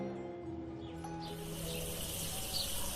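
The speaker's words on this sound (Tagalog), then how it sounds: "nang biglang kunin ni Mang Pilo ang pandilig ng halaman at pinuslit sa aming lahat" Water splashes from a plant watering can in a backyard, a steady broadband spray and patter running throughout, with faint bird chirps in the background.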